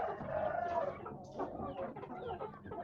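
A heavy rooster with bumblefoot clucks close by in short, throaty bursts, loud and clear with no one talking.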